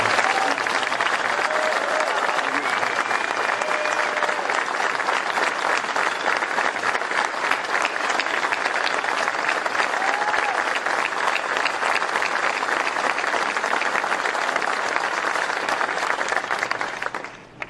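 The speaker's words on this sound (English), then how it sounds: "Would you join me in a round of applause for every man and woman here who's worn the uniform of the United States Army?" Dense, sustained applause from a large crowd honoring US Army veterans at a presidential event, loud and unbroken for nearly eighteen seconds with no speech over it.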